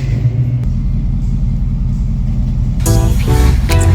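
A budget car with a swapped LS V8 engine rumbling low and steady while driving, a deep continuous drone that swells louder near the end with a brief rising rev.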